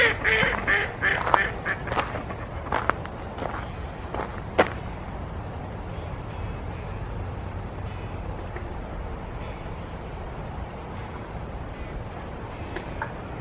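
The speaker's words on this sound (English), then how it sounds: "Look at all the ducks." Several ducks quack at a pond, a cluster of sharp, repeated calls in the first few seconds that thins to occasional distant quacks over a quiet outdoor background.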